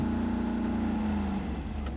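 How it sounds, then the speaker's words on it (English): Truck engine in the RoadCraft video game drones steadily up close, a constant mid-low hum holding one pitch before easing slightly lower, loud and continuous with no talking. "the engine sounds might be a little bit loud"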